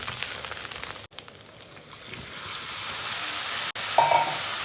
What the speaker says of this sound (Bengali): মশলাটাকে সুন্দর করে কষে নেবো